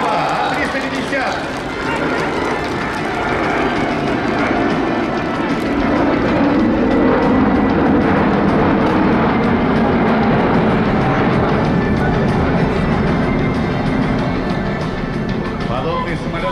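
An Airbus A350 XWB airliner makes a low flyby at the MAKS 2019 airshow, its jet engines producing a loud, steady, broad roar that builds slightly through the pass, heard under a public-address announcer talking throughout.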